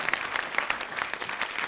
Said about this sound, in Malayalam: നല്ലൊരു കൈയടി കൊടുക്കാം പിൻചാന്റെ ടീമിന്